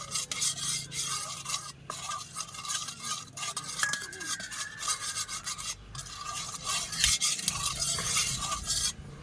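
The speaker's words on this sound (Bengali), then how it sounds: "একটু চামচটা দিয়ে নাড়িয়ে দেব তেলটা চারিদিকটায় কড়াইটায়" A spoon scrapes and stirs oil around a hot iron kadai, giving continuous close metallic rasping and rubbing strokes with a faint sizzle underneath.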